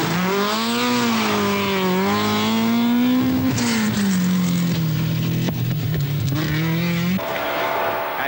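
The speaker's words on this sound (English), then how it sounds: "the hard-charging Austin McHale has worked his way back to sixth place after some inspired driving in his Chevette" A Chevette rally car driving hard at speed in the 1982 Ulster Rally, its engine note loud and near, rising and falling through gear changes with brief tire noise, a voice faintly beneath.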